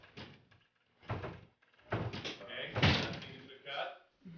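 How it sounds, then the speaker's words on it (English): A door on a film set opening and closing, several knocks and thuds one after another, heard at a moderate distance amid room noise, with people talking around it. "that's a tricky door, that door"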